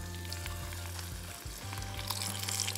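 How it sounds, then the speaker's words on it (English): Steady crackling sizzle of sunchoke skins frying in hot oil, with a low hum underneath and occasional stirring sounds. "Just make sure to keep moving your skins as you fry them"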